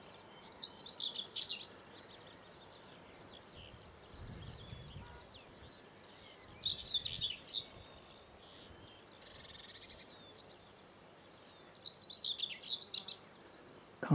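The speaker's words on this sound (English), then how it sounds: "Sounds like the black cap again." A blackcap sings in the Norfolk countryside near Blakeney, its bright warbling phrases coming in three distinct bursts separated by quiet gaps, moderately distant over faint outdoor background.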